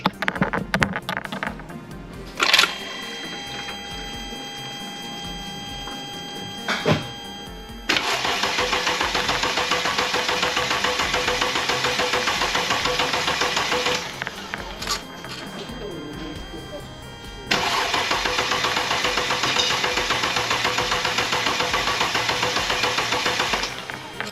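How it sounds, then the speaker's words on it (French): A Mercedes OM642 3.0-litre V6 diesel, freshly refilled with oil, cranks and fires for its first start, then settles into a loud, steady idle. The run is interrupted once, followed by a restart and continued idling. "elle est remise en huile, on va pouvoir faire un premier démarrage"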